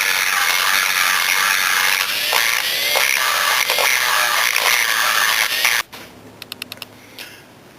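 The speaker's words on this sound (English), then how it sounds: "I've gone in with a single cut carbide and cleared that port up pretty good" A single-cut carbide burr on a rotary tool grinds the exhaust port of a Yamaha Blaster two-stroke cylinder, a loud, close, steady high-pitched whine that chatters against the metal for about six seconds, then stops, followed by a few light clicks.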